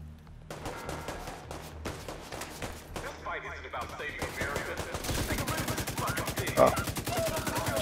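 Enemy gunfire in The Division 2 crackles in rapid bursts, dense and continuous toward the end, mixed with game effects and talk over it.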